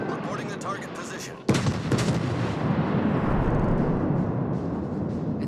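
A New Mexico battleship in World of Warships fires its guns, a single heavy boom followed by a long rumbling tail and scattered crackle, with faint voices underneath.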